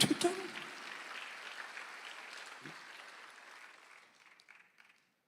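A congregation applauds during a Sunday afternoon worship service at a Gwangju church: a dense, steady wash of clapping that slowly thins and fades to silence after about five seconds.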